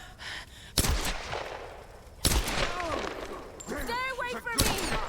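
Video game gunfire cracks out in three loud, separate shots spread several seconds apart, with voices talking and shouting between them.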